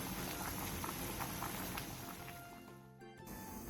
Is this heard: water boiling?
yes